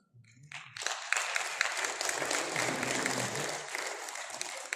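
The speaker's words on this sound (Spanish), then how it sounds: "Fuertes palmas, hermanos" An audience at an Aymara gathering breaks into loud, sustained applause after a brief voice at the start, the dense clapping holding steady for about four seconds.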